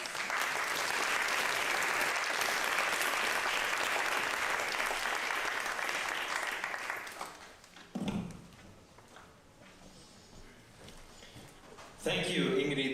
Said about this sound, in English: I think we give them a big applause.